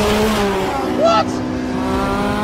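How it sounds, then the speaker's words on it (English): A Nissan Patrol accelerates hard in a race, its engine note climbing steadily and holding a loud drone close by, with a brief higher whine in the middle and no talking. "He's pulling away in a Nissan Patrol!"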